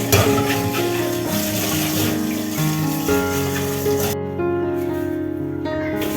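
Running tap water splashes steadily while a tiffin carrier bowl is washed, a loud continuous gushing that thins out briefly toward the end.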